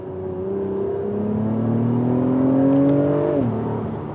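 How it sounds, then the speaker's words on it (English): Acura TLX Type S V6 engine accelerating hard. A loud, rising engine note climbs steadily and then drops sharply at a gear change near the end. No one speaks. "The TLX with the V6 also sounds better in my opinion."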